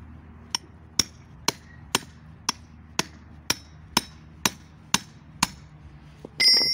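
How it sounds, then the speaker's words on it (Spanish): A hammer strikes a flat chisel to drive a U-joint bearing out of a driveshaft. About eleven sharp metallic blows come at a steady rhythm, loud and close, with a brief clatter at the end. "con un cincel plano, lo vamos a dar aquí, y despacito y poco a poco va a ir saliendo"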